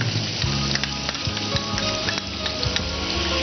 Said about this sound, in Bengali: পেঁয়াজ, রসুন, আদা, একটু লাল লাল ভাজবো